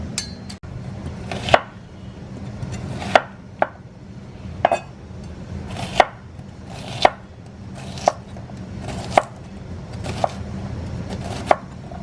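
A knife chopping garlic on a cutting board for Lao sausages, with sharp, evenly spaced chops about once a second that land close and crisp over a quiet kitchen background.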